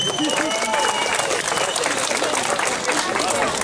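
A crowd at a village anniversary celebration in Costești claps and applauds loudly and continuously, dense hand claps filling the whole stretch, with some voices mixed in.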